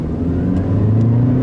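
A 2013 Honda Civic engine accelerates during a test drive, a steady mid-pitched hum climbing slightly in pitch, heard from inside without any talk.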